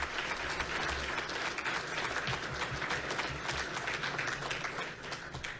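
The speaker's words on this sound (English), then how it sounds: "Round of applause for Pat." An election night results event for the Town of Penfield and Monroe County erupts in dense, steady applause from a crowd honoring the GOP chair, close and sustained throughout with hardly any fade.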